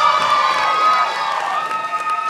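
On a dating show, a studio audience cheers and whoops for a contestant named Julie, a loud, continuous crowd roar with shouting voices and little distinct clapping.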